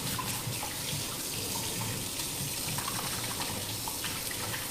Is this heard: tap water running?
yes